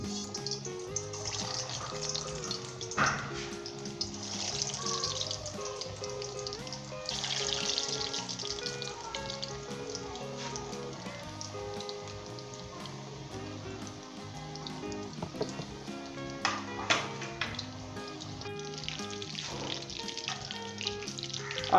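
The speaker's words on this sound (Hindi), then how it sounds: "अब हम इसके अंदर कोफ्ते अपने डालेंगे एहतियात के साथ और इसे मीडियम के ऊपर ही हम" Beef meatballs for kofta deep fry in vegetable oil over medium heat, a bubbling, crackling sizzle that runs steadily with occasional louder pops and spatters.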